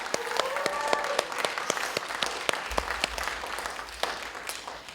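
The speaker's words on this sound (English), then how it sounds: "Another round of applause for this group." Audience applause at an adult learning center graduation ceremony for a group just honored, steady dense clapping throughout with a few sharper claps standing out, fairly close and continuous.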